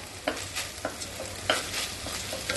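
Mushroom risotto being stirred in a pan, a soft continuous sizzle with a handful of scraping spoon strokes at irregular intervals, close and moderately quiet with no speech.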